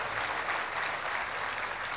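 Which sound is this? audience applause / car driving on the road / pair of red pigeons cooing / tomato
audience applause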